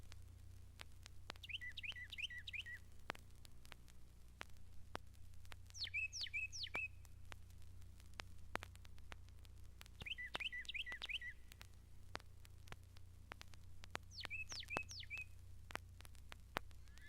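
Carolina wren singing in a mountain lake sanctuary, four bursts of rapid, rolling whistled phrases spaced a few seconds apart, fairly distant over a faint low hum and scattered ticks.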